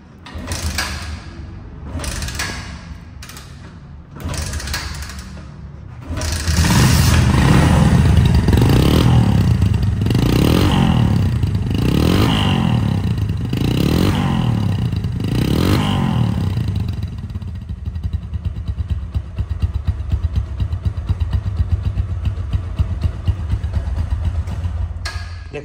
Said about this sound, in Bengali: এই বাইকটার যে সাউন্ড, এই যে সাইলেন্সার থেকে ম্যাগের মতো যে ডাক বের হচ্ছে